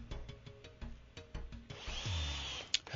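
Power drill driving a 2 to 2.5 inch screw with a square drive bit into the top of a gate stop rail, heard as short bursts of whirring at first, then a longer steady grinding run toward the end, fairly close.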